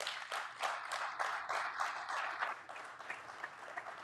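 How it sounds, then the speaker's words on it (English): Unexpected applause breaks out from the audience at a geopolitics talk, a fairly quiet, fast patter of many hands that thins toward the end. "Unanticipated applause."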